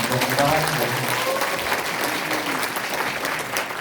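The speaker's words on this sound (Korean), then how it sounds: "다시 한번 의원님에게 큰 박수 주시면 고맙겠습니다" A hall full of people claps for a National Assembly member at a constituency report meeting. The applause is loud, close and continuous, with a few voices mixed in early on.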